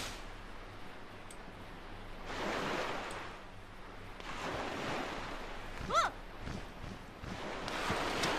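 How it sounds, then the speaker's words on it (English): A character falls into the sea in the video game The Legend of Zelda: The Wind Waker, with rolling surf washing in a few broad swells, steady game wind underneath, and a brief bird-like caw partway through. "And I fell into the ocean."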